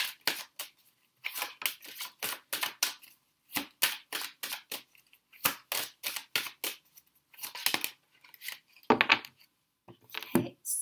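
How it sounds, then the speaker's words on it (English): Repeated crisp riffling and slapping of tarot cards being shuffled, in short bursts with brief pauses, close and fairly quiet. "I might as well shuffle for the other two cards."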